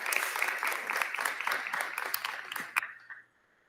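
Audience applause at a school district board meeting held at Stanton Academy, a steady wash of many hands clapping at moderate distance that fades out near the end.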